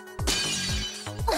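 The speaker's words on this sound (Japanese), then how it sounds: "このガラスの破壊音はアンリエットさんの携帯の着信音だったんだ" In the video game Tantei Opera Milky Holmes 1.5, a character's phone rings with a glass-breaking ringtone. A sudden, loud crash of shattering glass is followed by tinkling shards, with a second burst of breaking near the end.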